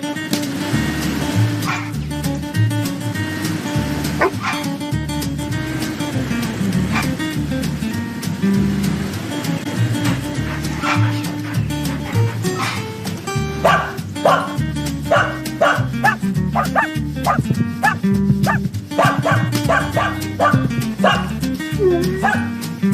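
Several dogs bark and yip repeatedly in a Subaru Crosstrek car commercial, excited irregular barks growing denser toward the end over a continuous music bed, with some talk mixed in.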